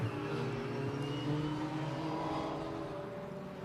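Race cars of a trackday championship at the Anglesey Coastal circuit, heard as a faint, distant engine whine that holds and rises slightly as the cars fight through the final corner.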